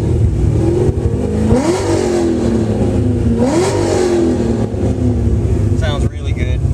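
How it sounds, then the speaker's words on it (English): A 2009 Corvette Z06 V8 with modified heads, cam and full exhaust revs up sharply twice, each rise falling back to a rumbling idle, close and loud. "Then we'll throw one more rev"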